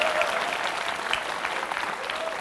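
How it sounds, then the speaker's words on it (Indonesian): An audience claps steadily through a parody parliament session, a dense even patter of many hands continuing throughout without a break. "Tepuk tangan dong, masa nggak ada tepuk tangan?"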